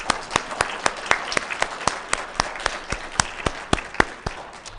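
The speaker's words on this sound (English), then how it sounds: "one last round of applause for our musicians today" An audience applauds musicians at the end of a synagogue concert, with moderate, scattered hand claps in an uneven rhythm that hold steady throughout without cheering.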